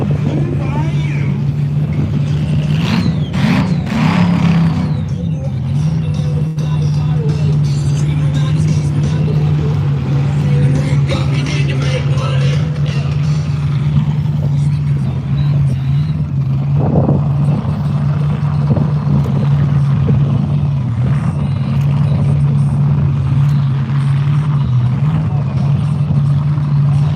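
The drag-racing motorcycle Blue Bayou makes a qualifying run at the DVRW Winter Shootout, its engine holding a loud, steady droning tone throughout, while an announcer talks over it.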